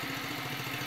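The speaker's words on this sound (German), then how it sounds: "Ein zweimotoriger Aufsitzmäher." A self-built, Citroen-based twin-engine ride-on lawn mower idles close by with a steady, pulsing engine chug and a rapid regular rhythm, running alone without talk.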